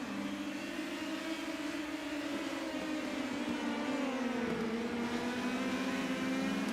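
Indy Pro 2000 race cars in iRacing at Lime Rock Park: a continuous engine drone with a slowly wavering pitch, mid-level and steady, with no talk over it.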